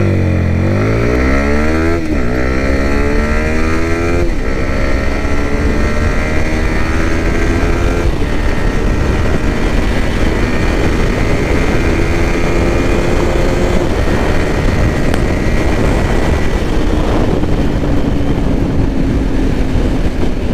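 A 2022 Yamaha MT-15 v2 motorcycle accelerates hard from a standstill toward 100 km/h, its engine note climbing through repeated gear shifts in rising sweeps, loud and close throughout.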